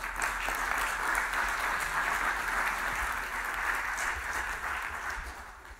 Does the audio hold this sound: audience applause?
yes